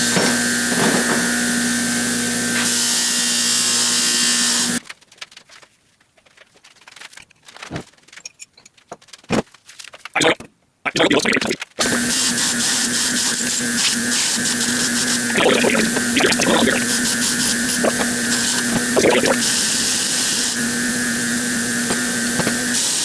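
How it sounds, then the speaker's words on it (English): Bench wire wheel cleaning vintage Craftsman table saw parts: a loud steady motor whine with harsh scraping bursts as metal is pressed to the brush, a few seconds of near-quiet spin-down, then grinding resumes with intermittent scratching. "All right, this is my wire wheel."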